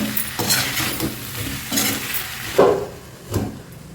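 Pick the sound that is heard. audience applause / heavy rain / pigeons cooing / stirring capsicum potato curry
stirring capsicum potato curry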